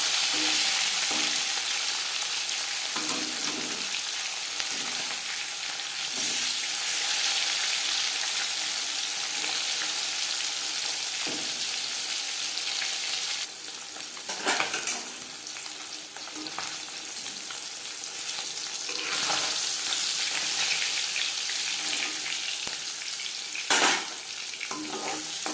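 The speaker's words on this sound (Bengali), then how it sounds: "প্রথম ব্যাচে মাছ ভাজা হয়ে গেছে।" Katla fish pieces frying in a shallow layer of oil, a dense, continuous close sizzle holding steady for the whole stretch, with a few brief louder crackles and spatters.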